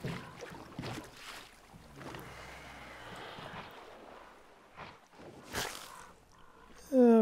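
Boat on water in the video game Metro Exodus, a low watery wash and drift with some wind noise running beneath someone talking, ending in a sudden louder swell.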